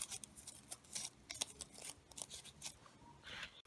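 Scissors snip through a folded paper snowflake in quick, irregular cuts, with crisp close-up crunching and short pauses between snips, no voices.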